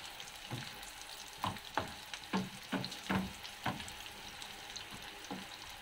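Ingredients for ginisang monggo sauté in a pan with a soft steady sizzle, punctuated by several sharp scraping stirs of a utensil against the pan, close and fairly quiet.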